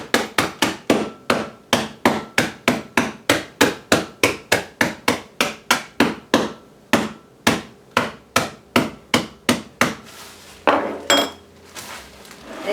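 A hammer pounds stuffing mix into crumbs in a kitchen, a long run of sharp, evenly spaced knocks close by that slows and turns irregular toward the end.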